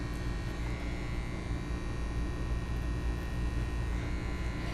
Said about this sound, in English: I'm going to go clipper over comb